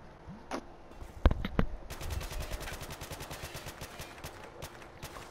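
Gunfire in a first-person shooter game: a few sharp single shots, then a long rapid automatic burst of evenly spaced cracks, moderately distant and fairly faint overall.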